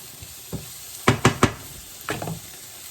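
Onions cooking in a pan with a faint sizzle underneath, punctuated by a few short stirring scrapes and knocks of a utensil against the pan, close and fairly quiet.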